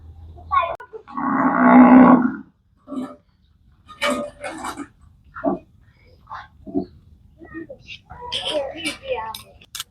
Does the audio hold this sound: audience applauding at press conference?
no